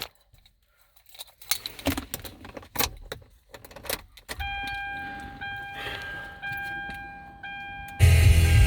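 Valet key of a Kia Soul with 192,000 miles jangling against other keys, a few scattered metallic clinks close by, followed by a steady chime tone and then a louder burst at the end.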